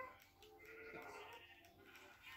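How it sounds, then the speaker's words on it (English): A Minecraft sheep bleats in a drawn-out, wavering call, fairly close and clear, with a second shorter bleat near the end and no talking. "This is a cannon that basically shoots sheep."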